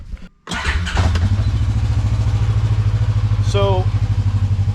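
A Kawasaki KRX 1000 side-by-side engine cranks, catches and settles into a loud, steady, throbbing idle up close, as a voice briefly speaks over it.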